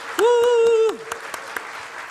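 A church congregation claps in steady rhythmic beats during a worship service while a voice lets out a loud, drawn-out whoop at the start, then the clapping continues alone.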